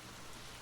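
Rain falls steadily as a soft, even hiss, quiet and continuous with no other sounds.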